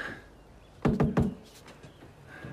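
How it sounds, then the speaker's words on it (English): Three firm knocks on a door in an even, fairly quick rhythm, loud and close against a quiet room, followed by faint shuffling. "Knock again."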